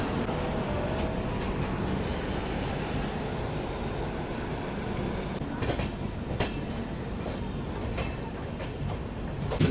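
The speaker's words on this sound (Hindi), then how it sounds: "इंदौर पटना एक्सप्रेस पटना से निकलने के बाद वो काम करेगी जो इस रूट पर चलने वाली बहुत ही कम ट्रेनें करती है।" The Indore Patna Express rolls out of Patna Junction, giving a steady rumble of rail cars with high wheel squeal and sharp clacks of wheels over rail joints.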